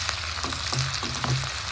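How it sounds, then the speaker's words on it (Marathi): Onion and chopped garlic sautéing in a pan, a close, continuous sizzle with a few soft stirring knocks underneath. "कांदा परतत आला की त्यामध्ये लसूण घालायचं"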